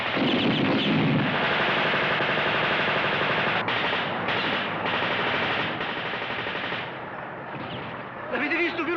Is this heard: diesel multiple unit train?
no